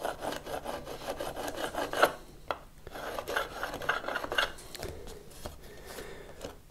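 Repeated close rasping scrapes as a tool is run over a guitar fretboard on a Blackguard Esquire restoration, chipping off lacquer in several uneven strokes with brief pauses between them.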